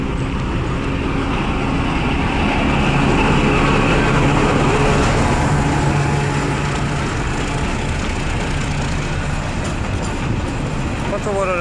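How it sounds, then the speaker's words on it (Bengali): A train pulls away from Gandaria railway station, a steady, loud, broad rumble and rattle of rolling carriages that holds unbroken throughout, close by. "রেলগাড়ি চলে যায়।"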